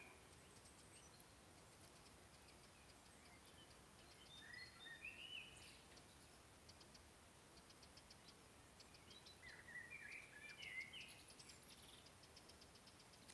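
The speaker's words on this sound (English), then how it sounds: "Just birds." Faint birdsong in a wood, with a couple of brief chirping bursts standing out over steady low ambient hiss.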